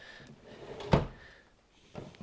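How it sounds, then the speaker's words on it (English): Pot-and-pan drawers in the kitchen cabinets of a Skyline Chaparral manufactured home slide and close with one sharp, close thud near the middle, followed by a softer knock at the end. "We got the pot and pan drawers."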